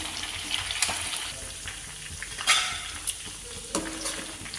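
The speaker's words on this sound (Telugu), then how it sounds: "బిర్యానీలోకి చికెన్ ఫ్రై చేస్తాను." Chicken frying in a pan for biryani, a soft steady sizzle with occasional spoon stirs and light clinks against the pan, no voices.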